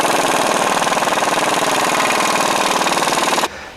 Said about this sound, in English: tighten all the nuts down with my impact gun